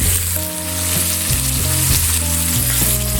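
Bacon strips cut in half sizzle steadily on a flat top griddle, a loud, continuous frying hiss with a low steady hum underneath and no talk.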